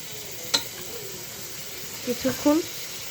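Beef stir-fried with spices in oil sizzles with a steady hiss, punctuated by a few brief spoon scrapes and clinks, close and moderately loud.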